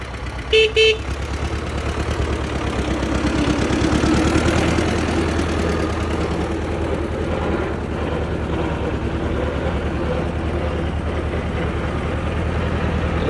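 An MTZ tractor engine idles with a steady low, knocking rumble, preceded early on by two short horn-like beeps.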